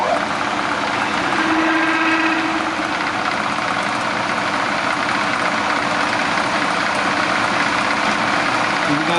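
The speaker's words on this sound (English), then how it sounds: "now we're going to drill" A milling machine drills metal, droning steadily and loudly at relatively slow speed with a constant mechanical hum, an even grinding whir that never lets up, with no voices over it.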